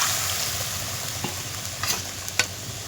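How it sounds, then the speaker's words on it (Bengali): Hot water goes into chicken chaap curry in a hot pan, giving a continuous close sizzle and frying hiss, with a few light utensil clinks and stirring knocks near the end. "চিকেন চাপের মধ্যে একটু গরম জল দিয়ে দেবো"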